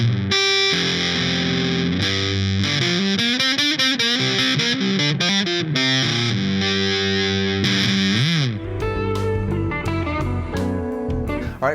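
Heavily fuzzed electric guitar through a fuzz pedal playing loud, saturated riffs and sliding notes, the tone imploding and sputtering near the end.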